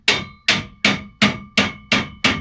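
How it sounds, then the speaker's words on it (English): A hammer bangs a metal shelf bar down to lock it into place, seven sharp, loud, close strikes at an even pace with brief ringing decay between, no voices. "take your hammer and bang it down"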